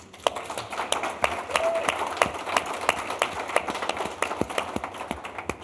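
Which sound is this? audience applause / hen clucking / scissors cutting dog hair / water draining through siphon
audience applause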